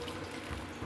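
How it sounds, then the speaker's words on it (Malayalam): Hot water pours steadily into a pan of home-style chicken curry, a soft, brief splashing heard close by with no talk. "നമുക്കപ്പോൾ കുറച്ച് ചൂട് വെള്ളം കേട്ടോ ഒഴിച്ച് കൊടുക്കണേ."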